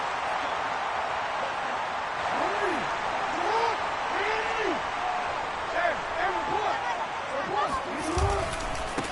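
A home crowd at an NFL football game between the Chargers and Ravens roars steadily throughout, swelling slightly, while a commentator talks over the noise.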